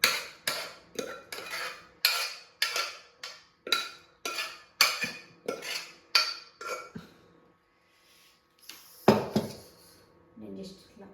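Haleem is stirred in a pot by hand in a home kitchen, a spoon scraping in about a dozen quick, regular strokes. The strokes stop briefly, then a few clinks follow with a voice at the end.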